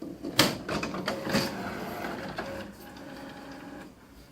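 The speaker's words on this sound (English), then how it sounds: "Open the cartridge access door." Cartridge access door of an HP Officejet Pro 7740 printer being opened: a sharp plastic click and clatter followed by a second clunk, then a steady mechanical whir that fades out, close and alone with no talk.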